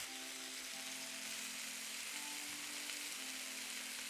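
Lamb chops seasoned with roasted garlic and rosemary searing in a hot pan, a steady close sizzle and crackle of frying fat holding evenly throughout with a low hum underneath.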